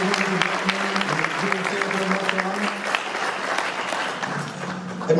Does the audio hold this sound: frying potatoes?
no